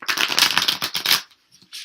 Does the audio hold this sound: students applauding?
no